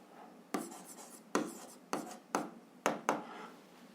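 A pen writes out a seventh-grade algebra exercise. Close, distinct scratching strokes come in short bursts of about six separate writing movements, with no one talking.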